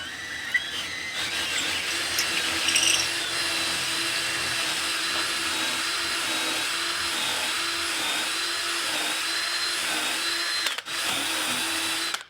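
A power drill whines steadily and loudly while boring into wood during an easel build, with a continuous high-pitched tone that briefly drops out near the end.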